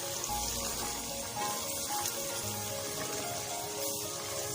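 Half a spoon of ginger garlic powder frying in a pan of masala for fish curry, a continuous dense sizzling hiss heard close up, steady throughout with no talking.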